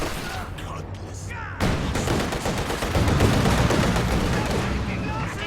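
A stolen MG42 machine gun rattles in a competitive World War II video game match, with sustained loud bursts that intensify midway, overlapping other gunfire while a voice talks underneath.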